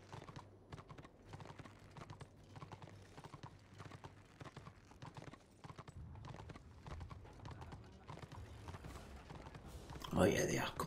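Horse hooves clip-clop at a steady galloping rhythm in the Warhammer Online video game, continuous and moderately loud throughout, with a brief burst of other game sound near the end.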